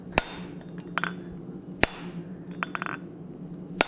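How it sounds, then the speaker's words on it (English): Sharp strikes of a soft face hammer on a hot cut hardy being forged, several blows spaced irregularly over a low hum, loud and close. "That's also why I'm using this soft face hammer"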